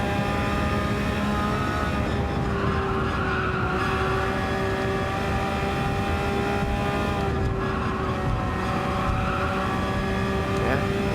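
A Porsche race car under trail braking, its tires skidding and squealing in long sustained howls over a steady engine drone, loud and close, with no voices.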